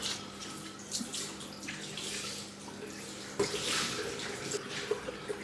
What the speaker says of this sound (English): Just rinse it off water, squeeze it out